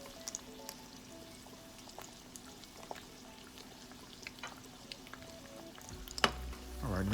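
Over easy eggs sizzling steadily in a frying pan, a close, continuous crackle with small pops and a louder scrape near the end.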